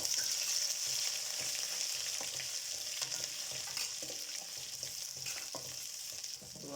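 Crushed ginger hits golden onions in hot oil for vegetable biryani, giving a steady, close sizzle with occasional stirring scrapes and no talk over it.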